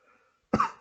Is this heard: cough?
yes